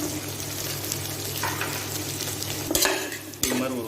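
Carrots, beans, potato and drumstick being stirred in a pan for sambar rice: a steady sizzle under a low hum, broken by two clear spoon scrapes and knocks near the end.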